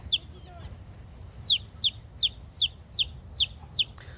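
A small chick with pasty butt chirps in a quick, regular series of high, thin peeps, about eight in a row, over faint background noise.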